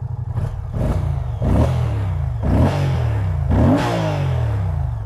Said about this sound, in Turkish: Mesela vites düşürüşlerde patır patır yapıyor bu arada.